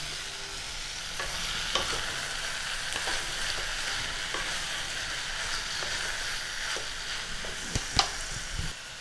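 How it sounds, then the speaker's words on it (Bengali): Mutton pieces frying with spices in a pan for stew, a constant loud hiss of hot oil with scattered scraping stirs and a few knocks near the end, with no one talking. "ভাজা ভাজা করে নিয়ে নিচ্ছি মাটনের টুকরোগুলো।"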